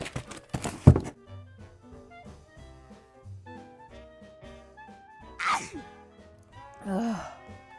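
One sharp sneeze bursts out near the start, followed by soft groaning sounds and a gentle melody playing quietly in the background.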